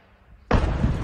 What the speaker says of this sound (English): we can now hear the explosion as it hits an oil silo